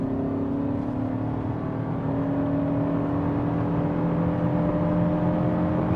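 A 2026 Toyota Camry SE accelerates on concrete pavement, its engine note climbing steadily beneath a constant broadband wash of tire and road roar heard from inside the cabin, loud and unbroken throughout.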